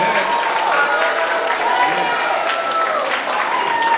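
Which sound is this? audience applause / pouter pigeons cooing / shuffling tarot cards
audience applause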